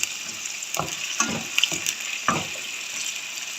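Ginger and crushed green chilies fry in oil in a pan for bhindi masala, a constant close sizzle broken by a few soft stirring scrapes.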